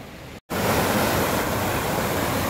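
Waterfall runoff rushes across a wet, rough mountain road on the way from Mangan to Lachen, a loud steady roar of flowing water that starts after a brief dropout and continues without talk.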